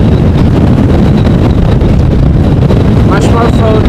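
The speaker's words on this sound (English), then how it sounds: "the wind can still blow so hard" Strong storm wind buffeting a microphone outdoors at an airport, a loud, constant rumbling roar with a voice briefly breaking through near the end.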